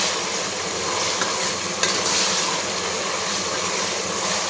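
Onions, green chili, mint and coriander frying in a pan for Dindigul biryani, a steady close sizzle with occasional stirring scrapes, no talk.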